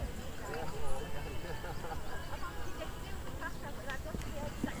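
Hoofbeats of a horse in a show jumping arena thud under continuous announcer commentary, an uneven rhythmic clip-clop half buried beneath the talking.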